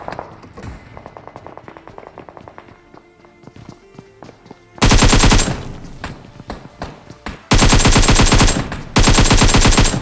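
Rapid automatic rifle fire from an AKM in a battle royale video game, loud sustained bursts in three long volleys after a stretch of quieter game sounds and scattered shots.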